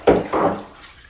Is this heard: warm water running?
yes